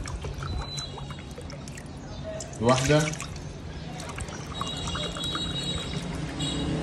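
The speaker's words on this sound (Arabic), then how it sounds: "اول حاجه هنعملها هنعاير كوبايتين ميه" Water pours briefly into a measuring cup, its pitch rising as it fills, while a person talks over steady background noise.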